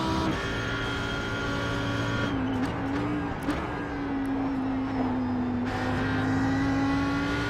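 Audi R8 GT3 racing at Bathurst in a driving video game, a loud, sustained engine drone that rises in pitch as it accelerates, with brief tire scrubs, close and with no talk.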